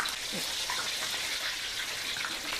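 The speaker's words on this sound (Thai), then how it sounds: "ระหว่างทางเราก็ใช้น้ำมันนะตักราดราดบนตัวปลางนี้ได้นะ" A whole fish deep-frying in hot oil hisses with a steady broadband sizzle while oil is ladled over it, the crackle soft and continuous throughout.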